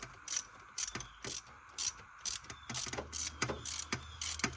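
A hand ratchet clicks in quick, uneven bursts while tightening a fitting on a coolant leak, the pawl clicking crisply and close by over several short strokes.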